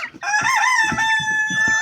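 A rooster crows loudly and close by in one long, sustained call with a rising start, standing alone without talk.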